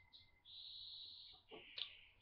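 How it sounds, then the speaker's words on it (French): Birds chirp and call in the background with sustained high-pitched trills and a brief louder burst near the end, heard indoors during a craft lesson on making a teddy-bear lollipop. "Donc, désolé pour les oiseaux"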